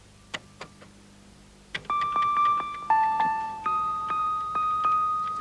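Bell-like computer music chip tones ring out in a series of sharp struck notes, each decaying with a twangy ringing tail, loud and close after a few faint clicks.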